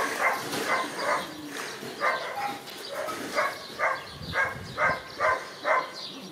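A dog barks repeatedly in a quick, uneven rhythm, about a dozen sharp mid-pitched yaps close by, over a faint background hiss.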